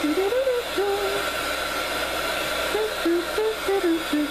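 A handheld heat tool blows a steady, loud whooshing hiss over a freshly stamped art tag, running continuously for several seconds at close range.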